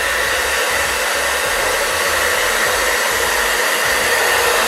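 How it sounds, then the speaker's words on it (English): A hair dryer blows steadily on a cool, high setting, a loud continuous whooshing hum that stays constant throughout. "Have the blow dryer on cool,"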